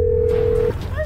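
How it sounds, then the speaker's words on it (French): A telephone sounds a steady single tone for under a second before cutting off, followed by a short warbling electronic blip, loud and close against a low background rumble. "tu entends le téléphone et viens vers moi"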